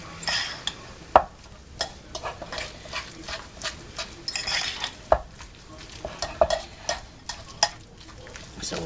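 Chopped fresh parsley is stirred into an egg mixture in a bowl, producing close, wet scraping and irregular clicks of the utensil against the sides, with no talking.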